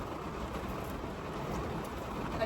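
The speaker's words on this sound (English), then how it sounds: "I'd stop this rain" Rain patters steadily on the outside of a car, a soft, even hiss heard from inside with no voices.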